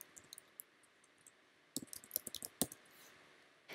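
Computer mouse and keyboard clicks during an online sign-up on a website: sparse faint clicks, then a quicker burst of sharper clicks near the end, close and quiet with no speech.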